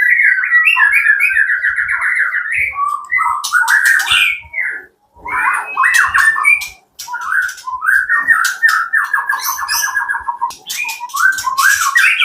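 An oriental magpie-robin sings loudly and close by in varied whistled phrases, with rapid trills, chirps and sweeping notes, pausing twice briefly before continuing.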